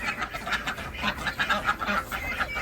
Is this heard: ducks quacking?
yes